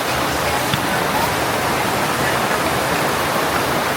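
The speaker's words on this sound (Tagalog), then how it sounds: "Finally, umulan na din." Steady, loud rain pouring down in Masbate, Philippines, a dense unbroken hiss that fills the whole stretch with no pauses or talk.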